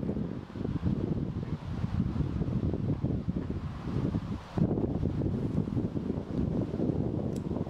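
Steady gusty wind buffets the microphone on an outdoor disc golf course, with a continuous low rumble and roar, no voices.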